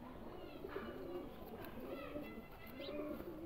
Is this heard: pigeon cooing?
yes